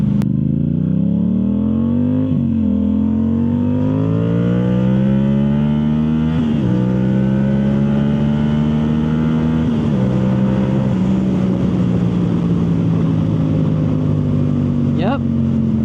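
Yamaha YZF R7 sport motorcycle fitted with a Yoshimura full exhaust accelerates hard through several gears, its loud, close engine note climbing in pitch and dropping at each of three upshifts, with a raspy exhaust tone throughout.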